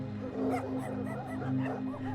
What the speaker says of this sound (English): The dogs in the back of the truck bark with excitement